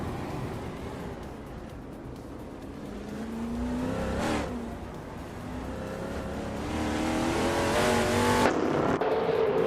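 1970 NASCAR race cars, a Ford Torino among them, roar around the Jerez circuit in a racing video game, engines rising and falling as they rev through gears, with a pack of cars passing close by.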